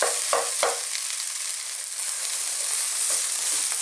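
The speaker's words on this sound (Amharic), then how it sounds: "መጥበስ አለብን ሩዛችንን።" Chinese vegetable fried rice made with cold rice, frying in a hot pan with a steady, bright sizzle throughout and a few short scraping stirs near the start and end, with no talking.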